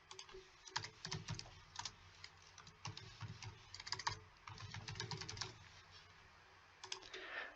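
Keys tap out an appointment number on the touchscreen entry of a Cruzr receptionist robot. The close, quiet clicks come in steady bursts with short breaks.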